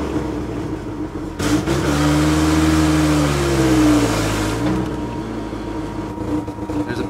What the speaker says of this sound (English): I mean, she's kind of revving now,